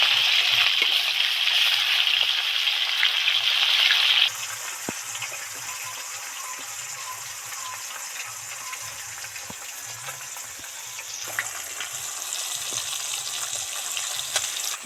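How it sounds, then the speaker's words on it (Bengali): Fish frying in oil in a pan, a steady bright sizzle that loudens, eases after a few seconds, then swells again near the end, with faint voices underneath. "মাছগুলো তো একদিকে ভাজা হয়ে গেছে এবার অন্যদিকে একটু চেঞ্জ করে দিচ্ছি"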